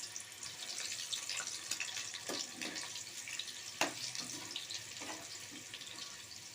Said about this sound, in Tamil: இந்த மாங்காவை ஃப்ரை பண்ணி எடுத்துக்க போகிறோம்